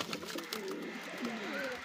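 Pigeons coo softly at close range, several low, throaty rolling calls overlapping in quick succession over faint background noise.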